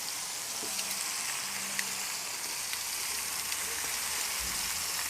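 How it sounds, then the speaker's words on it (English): Lamb sizzling as it sears in a pan with shallots, garlic and a spice mix for a slow-cooked Peruvian stew, a steady close frying hiss with faint crackles and no talk. "our lamb is getting seared now"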